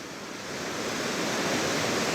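Strong wind and heavy mist roaring steadily close to a waterfall, a dense continuous broadband rush that builds slightly and holds loud throughout with no voices.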